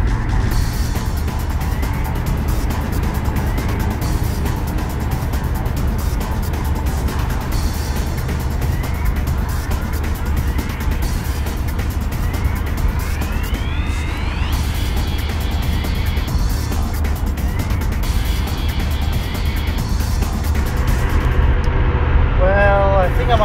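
A Holden Kingswood drives on the Hume Freeway after leaving Seymour, with a constant loud engine and road drone heard from inside the car, steady throughout, and a brief rising whine near the end.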